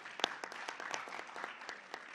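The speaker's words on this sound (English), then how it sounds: "So give a round of applause to yourselves" Faint, thin applause from a room full of youth assembly attendees, a scattered patter of clapping with a few sharper individual claps, heard at a distance and fairly quiet throughout.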